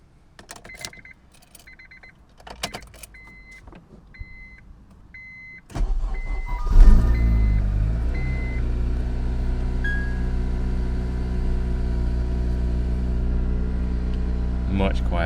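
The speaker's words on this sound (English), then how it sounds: "So yeah, that was the cold start." Cold start of a Honda Type R fitted with its standard exhaust: a few clicks and dashboard chimes, then a cranking start that settles into a loud, steady, close-up idle hum for the rest of the clip.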